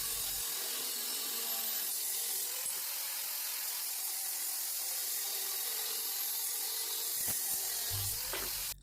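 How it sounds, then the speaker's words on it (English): A Damascus steel billet of layered 15N20 and 1084 steel is cut into even pieces: a loud, steady, unbroken grinding hiss runs throughout, with a few faint clanks near the end. "I mark the Damascus every 3 inches so I can cut it into even pieces."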